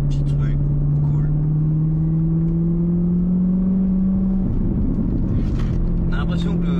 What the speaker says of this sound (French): Beaucoup de crépitement à la décélération, vraiment beaucoup.